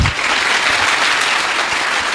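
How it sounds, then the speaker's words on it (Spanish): Applause from a church audience, a loud, dense burst of many hands clapping steadily for about two seconds with no talk over it. "Aplauso pues para el hermano."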